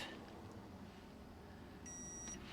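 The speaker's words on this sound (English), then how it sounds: "Okay, that's beeped, and now that is starting to heat." An OutIn Mino portable coffee maker gives a single short, high electronic beep as it starts heating, heard faintly over a quiet room background with no talking.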